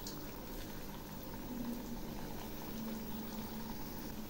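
Fritters drop into hot oil in a wok over a gas flame, giving a soft, continuous bubbling hiss that stays faint and even throughout with no voices.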